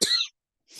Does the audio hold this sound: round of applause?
no